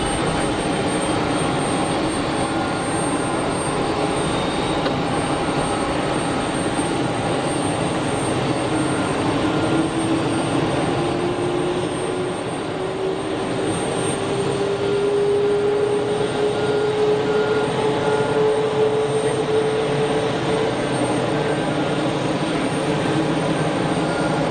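A Polish Embraer jet pushes back at Geneva Airport, its engines giving a steady, broad roar with a faint rising whine, continuous and fairly distant.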